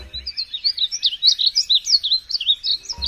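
A songbird with bright yellow-green plumage sings a continuous run of high, quick warbling and twittering notes, close and clear, with brief low rumbles only at the start and end.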